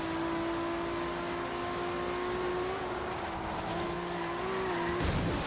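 Cars in Forza Horizon 3 racing, engines holding a steady high drone with long tire squeals as they slide, loud and close with no talk.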